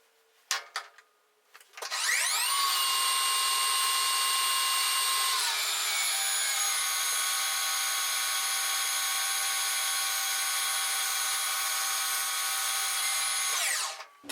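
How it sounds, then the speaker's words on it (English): Skim cut on a lathe with a sharpened brazed carbide tool bit: after brief clunks, a steady high-pitched whine rises and holds with bright ringing tones, shifts pitch midway, then stops abruptly near the end, close and continuous with no speech. "So first I'm going to skim off all the steps, and then we'll come back and we'll take another finish cut."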